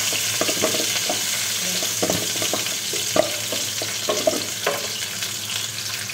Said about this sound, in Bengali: আমার সবজিগুলো ভাজা হয়ে গেছে তেলের মধ্যে